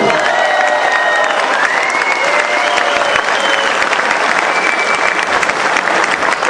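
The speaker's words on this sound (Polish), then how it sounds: "Brawa dla zwycięzcy" A boxing crowd applauds the winner of an exhibition bout after a technical knockout in the fifth round, loud dense clapping throughout with faint voices and whistles mixed in.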